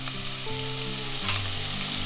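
Celery sweating in olive oil in a pot, a steady close sizzle and fry hiss running throughout, with a low tonal hum underneath and no talk.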